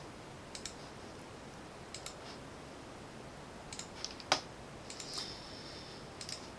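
Someone types on a computer keyboard in a few short, quiet bursts of clicks separated by pauses, with one sharper key tap, heard faintly and close.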